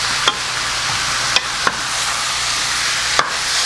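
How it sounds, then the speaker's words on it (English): A spoon stirs Jamaican stew beef with Scotch bonnet pepper in a pot, giving a few sharp knocks and scrapes over a steady sizzling hiss, close and fairly loud. "Stir it up a little."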